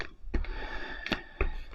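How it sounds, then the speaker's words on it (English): An electric fan's blade flaps in three sharp, evenly spaced clicks, each a short burst over a low steady hum. "Sorry about my flappy"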